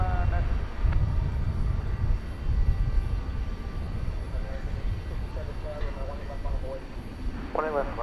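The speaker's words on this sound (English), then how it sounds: "That's a 777-200." An American Airlines Boeing 777-200 jet airliner taking off at night from DFW Airport, a low, moderately distant engine rumble running throughout, with brief voice-like chirps near the end.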